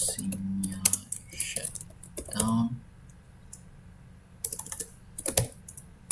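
Fingers tap a computer keyboard in short bursts of quick, close clicks separated by pauses, with brief mechanical key rattles, during a virtual machine installation on a personal computer.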